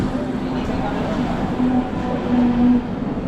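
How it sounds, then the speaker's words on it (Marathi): A local train pulls into a station on the Kalyan to Nashik route, giving a steady, loud low rumble and hum that fills the whole stretch, with a faint voice or two mixed in. "अशा तऱ्हेने आपली ट्रेन आलेली आहे."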